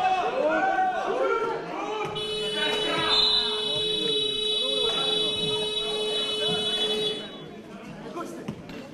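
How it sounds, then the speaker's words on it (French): Loud buzzer marking the end of a possession in a wheelchair basketball game between Saint Avold and CS Meaux, a sustained steady tone lasting about five seconds over arena crowd noise and a commentator's voice. "Et buzzer de fin de possession."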